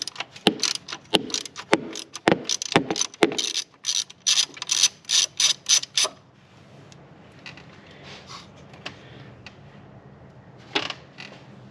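A hand ratchet clicks in quick rapid bursts as it loosens the 14mm center nut on a Hyundai Santa Fe gear shifter, loud and close at first, then fainter scattered clicks and creaks with a quiet pause between them.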